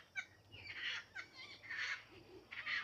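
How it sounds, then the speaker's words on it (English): Birds call from gum trees outdoors, a few raspy, warbling cries repeating in short bursts, moderately close and faint against a quiet background, with no one talking. "Hear the birds on the trees."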